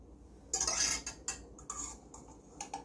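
A metal whisk strikes and pokes into a can to puncture it for draining, giving a quick cluster of bright metallic clinks and taps, close and fairly loud, with no talking.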